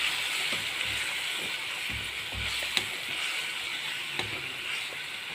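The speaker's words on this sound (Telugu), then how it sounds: "ఇదైతే బాయిల్ అవుతుంది చూడండి." A pot of biryani mixture stirred with yogurt paste bubbles and simmers steadily, a continuous hiss with faint scattered pops and occasional soft clicks, close and moderately quiet, with no voices.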